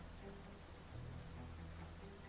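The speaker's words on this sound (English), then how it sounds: "We're just listening to rain." Steady rain falls on a surface in a continuous, even patter, moderately close, with no voices over it.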